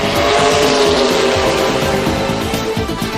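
Race cars faster than Formula One tear past at full speed, a loud continuous engine roar with sharp tire squeals and skidding layered over it, no voices.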